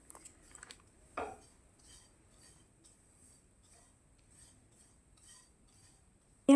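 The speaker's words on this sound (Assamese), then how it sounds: "এতিয়া মই চুজিখিনি লৰাই লৰাই ভাজি আছোঁ" A spoon stirs semolina frying in a pan over a medium flame for rava ladoo, making a few short, light scrapes and taps early on. Near silence follows, then a sudden loud knock at the very end.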